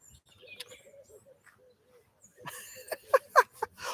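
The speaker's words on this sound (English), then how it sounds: "I just hear the birds singing nice melodies for me." Birds call outdoors, soft low coos early on, then a few louder sharp chirps toward the end against a quiet background.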